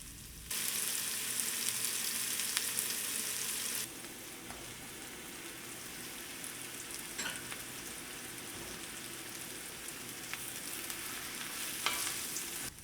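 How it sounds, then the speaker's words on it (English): Onion-garlic aromatics with fresh oregano sprigs sautéing in a pan, a steady close frying sizzle with occasional stirring scrapes, louder at first and then quieter after the heat drops. "Stir this combo well and let it saute for about 5 to 6 minutes."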